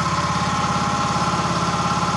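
Engine idling steadily on wood gas from a gasifier, a continuous close, even running drone with a regular low pulsing throb and no talk.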